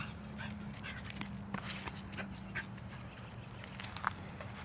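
A dog whimpers and pants close by while jumping up on its owner, the soft whines and sniffing coming in short irregular bursts over a steady low hum in a garage.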